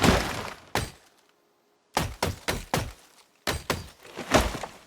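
A fire axe chopping down a tree in Project Zomboid, heard as a short run of sharp, loud, separate wooden thunks in uneven bursts with brief silences between the strikes.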